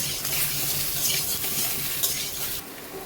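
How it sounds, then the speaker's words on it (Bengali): Spice paste with Kashmiri chili powder fries and is stirred in a pan for a hilsa fish curry, a steady close sizzle with scraping stir strokes over it. "ভালো করে এই মশলাটাই আমি কষাবো।"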